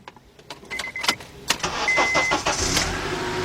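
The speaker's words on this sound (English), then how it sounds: "Let's start the car up." A 2003 Honda Accord with the 2.4 engine is started after a few clicks and clunks: the starter cranks briefly, then the engine catches and settles into a steady, moderately loud idle.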